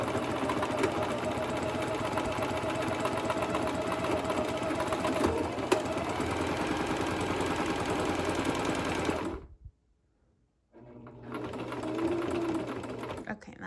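A sewing machine stitches a buttonhole on a garment placket when its pedal is pressed, a loud, steady mechanical whir running for about nine seconds, then stopping abruptly before resuming briefly.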